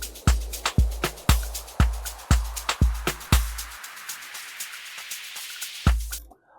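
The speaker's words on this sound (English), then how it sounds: "And we also have another down filler reversed." Reversed down-filler effect from an Afro tech production in FL Studio 24.2: a swelling reversed wash builds over a steady run of punchy kick hits, the kicks dropping out midway before one last hit and an abrupt cutoff.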